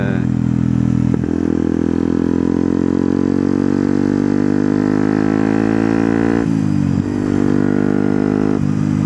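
A Yamaha WRX 125 motorcycle fitted with an Arrow exhaust rides along a road, its engine droning loud and steady with rising pitch through the gears, a brief dip and shift near the middle before pulling hard again.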